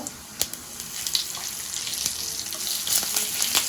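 Tempering for okra bhaji sizzling in hot oil, with asafoetida, turmeric, curry leaves and chillies added, making a close, steady crackling fry dotted with sharp pops and a few utensil taps, with no talking.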